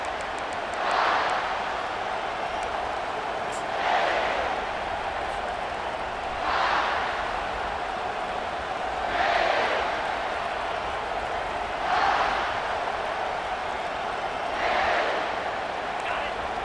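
A football stadium crowd at the Iowa versus South Carolina game roars steadily, swelling in rhythmic waves every few seconds beneath a commentator talking throughout.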